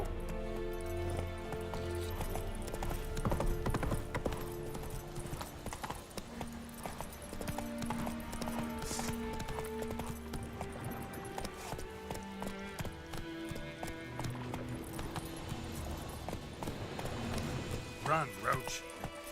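Hooves clip-clop rhythmically as a horse gallops in The Witcher 3 game, a steady beat running under music and game effects with someone talking over it at times.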